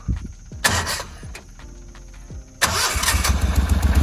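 A boat engine cranks with a few sputtering turns, choke on, stalls briefly, then catches and starts, settling into a loud, rumbling idle up close.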